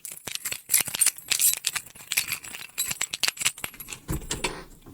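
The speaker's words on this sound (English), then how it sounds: "if I jingle these keys now, this is with the noise cancelling on" Bunch of keys being jingled close by, producing a run of bright metallic clinks and rattles in irregular bursts, with no talking.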